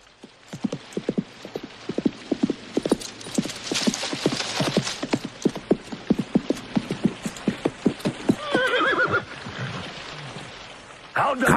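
A horse in a 1993 knights film clip-clops at a steady, brisk rhythm, loud and close, hooves striking continuously, followed by a short whinny near the end.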